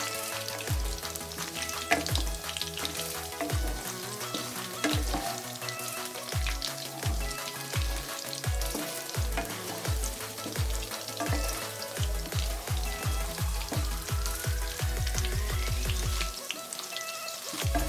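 Paneer frying in a pan, a dense continuous sizzle and crackle with rhythmic low thumps of stirring, loud and close throughout, with no speech.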